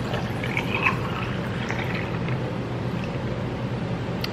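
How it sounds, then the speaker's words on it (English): Margarita mix poured over ice in a glass, a steady, close liquid pour with faint clinks, running continuously without speech. "then once I have enough, I'll just pour it over ice"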